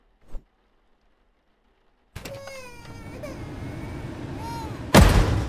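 A sharp, loud synthetic firework blast erupts near the end of a horror game scene, following a stretch of sweeping electronic tones and rumbling effects.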